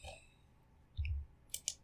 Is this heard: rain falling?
no